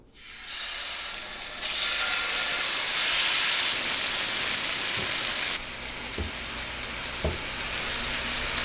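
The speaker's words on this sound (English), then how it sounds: "we should be getting a beautiful sear on the bottom of that salmon right now" A salmon fillet sears flesh side down on a Blackstone E-Series electric griddle at 400 degrees, giving a loud, steady sizzle that swells and dips, with a few faint knocks and no talk.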